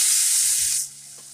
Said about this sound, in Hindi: जो मेरा ये मसाला का पेस्ट बनाई हूँ ये डाल दे रही हूँ